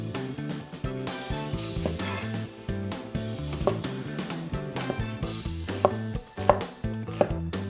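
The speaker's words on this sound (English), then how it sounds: "We'll chop up our onions." Onions chopped on a board for a Korean spicy tofu soup, sparse knife knocks coming through under steady, loud background music.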